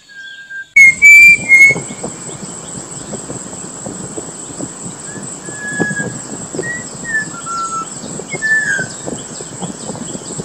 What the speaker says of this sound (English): Malabar whistling thrushes are usually found in dark undergrowth and dense riverine forests